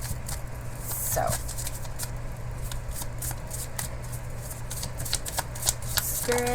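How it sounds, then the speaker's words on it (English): Oracle cards are riffled and shuffled repeatedly in quick, papery bursts close by, with a faint voice now and then in the background. "I like to shuffle and see which ones come out"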